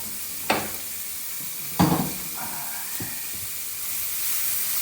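Chopped onion sizzling in a hot pan with chorizo for paella, a steady soft hiss broken by a few sharp crackles and stirring scrapes, close and fairly quiet.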